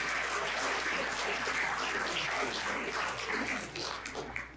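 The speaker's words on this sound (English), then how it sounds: "let's give him a big round of applause for putting this on for everybody" Audience applause at a live conference event, a dense wash of clapping from a crowd filling the room, steady and loud before tapering slightly toward the end.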